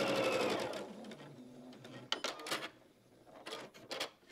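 A sewing machine stitches seams on a baby quilt, running in a loud steady burst that stops around the midpoint, followed by scattered mechanical clicks and short bursts.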